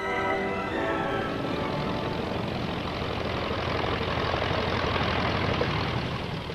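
A Bristol Blenheim Mark I bomber with twin 840-horsepower Bristol Mercury radial engines running, a loud, steady, unbroken droning roar with no pauses.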